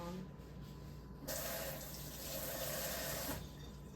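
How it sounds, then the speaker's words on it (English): Hand rinsed under a running kitchen tap, a soft steady stream of water that swells louder midway as the flow hits the hand, with faint voice in the background. "I'll rinse my hand"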